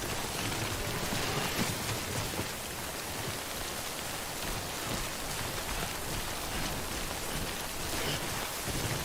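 Steady timefall rain in Death Stranding, a dense, even hiss of drops pattering on surfaces that fills the whole stretch at a constant level, with no voices.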